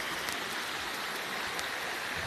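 A stream flows over stones in a green hilly area, a steady close hiss and burble of running water that stays even throughout, with no voices.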